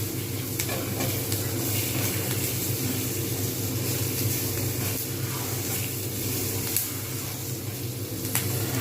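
Fish pieces for chilli fish fry steadily in a pan with a loud, continuous hiss and crackle that holds even throughout.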